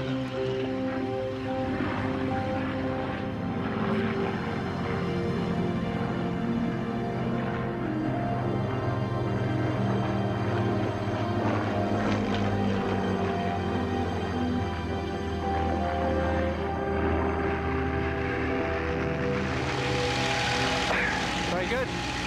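A Supermarine Spitfire's piston engine drones steadily throughout as the aircraft flies, a loud, continuous propeller roar holding for over twenty seconds, with people talking underneath.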